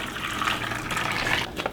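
Pre-boiled water being poured into a cooking pot holding kabocha squash and red potatoes, a continuous close gushing splash that shifts in pitch as the pot fills, then tapers off.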